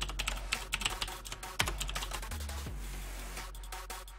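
Fast, crisp keystrokes on a computer keyboard, clattering in quick irregular bursts with a few heavier thumps, close and alone with no talk.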